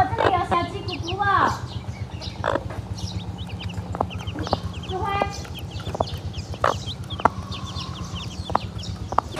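Newly hatched native chicks, seven of them, cheep in quick high chirps scattered over a low steady hum, with voices talking nearby.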